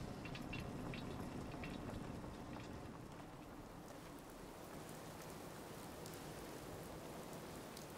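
Steady rain falls in the Fallout 4 video game, a dense, even hiss of droplets at a low, constant level with no voices over it.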